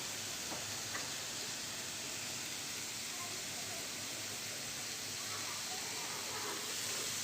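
Green beans sizzle over low heat in a pan, a steady soft hiss of frying that holds evenly throughout with no break.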